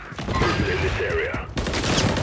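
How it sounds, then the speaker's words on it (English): Rapid gunfire crackles in a Modern Warfare 3 Hardpoint match on Estate, a dense burst of shots close and loud, then a louder rattling volley. "Taking fire."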